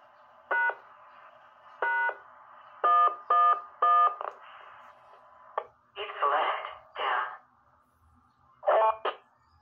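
DTMF command tones sent to an amateur radio repeater with a talking voice prompt, changing its roger beep: several short stacked tone bursts at spaced intervals, then longer chirping beep sequences over faint background hiss.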